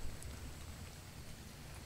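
Rain in the video game Ark Survival Evolved, a steady, soft hiss of falling drops heard alone and evenly throughout the short stretch.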